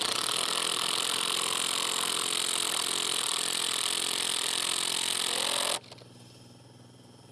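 A loud, steady whine of an impact driver sinking a Titan bolt into a wooden deck, running continuously for several seconds close by, then cutting off abruptly to near silence.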